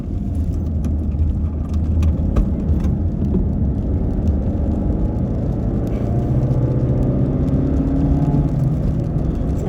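Car with a small 1.5 liter naturally aspirated Skyactiv-G petrol engine held at about 4,000 RPM, a steady loud engine drone and road rumble from inside the cabin with no break.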